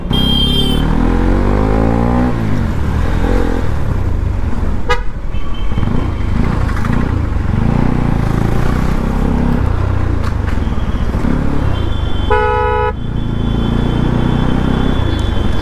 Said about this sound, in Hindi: फुल ट्रैफिक है।